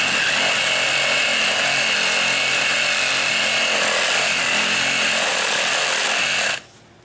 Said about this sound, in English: I never would have thought a sawzall would be this powerful with just a battery.